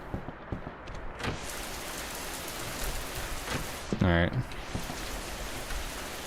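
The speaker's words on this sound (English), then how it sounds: "I'm just gonna appreciate the rain for now." Steady rain falls and patters continuously all around, close and even, with a person briefly speaking partway through.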